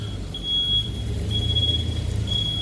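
A vehicle backup alarm sounds three steady, evenly spaced beeps over a low engine rumble, heard from a moderate distance.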